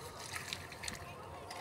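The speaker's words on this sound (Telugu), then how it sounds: "కడిగి నీళ్ళు పోస్తున్నాము చెట్లకు" Water used for washing vegetables is poured onto plants in a rooftop terrace garden, making soft splashing and sloshing with a few brighter splatters.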